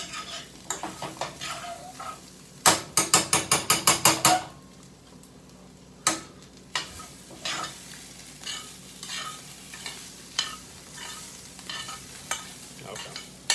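Potatoes fry in a pan with a soft sizzle, broken up by repeated clanks and scrapes of a utensil stirring, including a quick burst of rapid taps against the pan.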